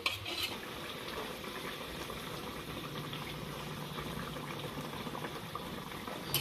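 A pot of fish curry bubbles and simmers on the stove, a dense, steady, close burble with faint clinks of a utensil against the pot near the start and end.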